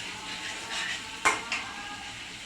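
Shrimp going into a pan of frying ridge gourd gives a soft, continuous sizzle, with one sharp clink of a utensil against the pan and a smaller knock just after.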